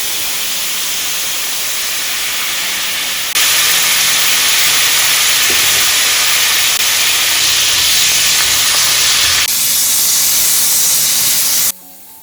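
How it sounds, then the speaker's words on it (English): Red wine poured into a pan of frying mutton sets off a loud, steady sizzle and steam hiss that suddenly jumps in intensity and carries on close up, with no talking. "Now I'm gonna add red wine,"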